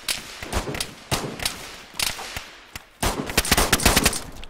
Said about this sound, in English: Someone else besides him was shooting at me.